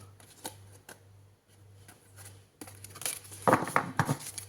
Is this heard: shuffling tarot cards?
yes